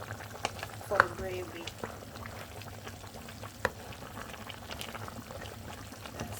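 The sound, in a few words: oxtail boiling in a pot for gravy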